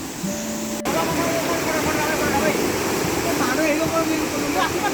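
A waterfall roars as a broad, steady rush of falling water heard from nearby, continuous and even after a brief sharp click near the start.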